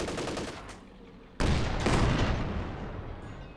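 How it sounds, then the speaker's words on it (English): Machine-gun and cannon fire in Company of Heroes during a long-range skirmish between a Pershing tank and a Fox Grenadier squad, with a sudden loud blast midway followed by a sustained rattling barrage that slowly fades. "Looks like the machine guns were still in range for a couple tickles there."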